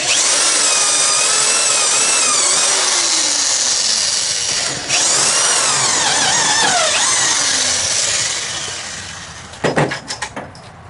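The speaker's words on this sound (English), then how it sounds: "we're going to drill our holes through this board and through our frame" A power drill bores holes through a wooden board and the frame of a glider swing, its whine running loud and steady for most of the stretch, briefly easing, then tapering off into a few sharp knocks at the end.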